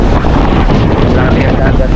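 Strong wind sweeps over the sea at Bucana, a loud, close, buffeting rush of gusts battering the microphone, steady and unbroken for two seconds.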